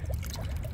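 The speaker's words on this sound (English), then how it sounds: "All this water's popping up right here after I unclogged it." Water gushes steadily from a pop-up drain emitter just cleared of a clogged golf ball, a continuous close, bubbling pour with no voices.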